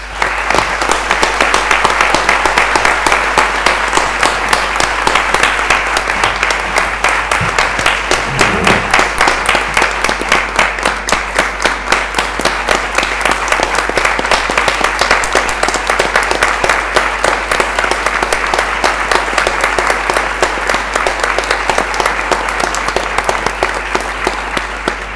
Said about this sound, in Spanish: Así que yo pido un gran aplauso después de tanto silencio para honrar a nuestros familiares